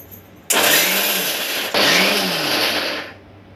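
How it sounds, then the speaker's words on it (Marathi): A kitchen mixer grinder crushing cluster bean chutney whirs in two loud, close pulses, switched on sharply, briefly cut, then restarted before winding down. "मिक्सर एकसारखा फिरवायचा नाही, चालू बंद करायचं।"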